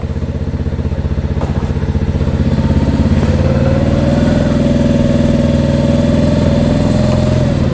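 A Mash Fifty motorcycle engine runs steadily close by, its rhythmic pulsing climbing in pitch as it is taken up through the gears, loud throughout with no talking.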